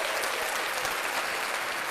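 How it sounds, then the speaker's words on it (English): Steady, dense applause from a studio audience during a podcast discussion, loud and continuous for the whole stretch, with faint voices mixed underneath. "clap that up again"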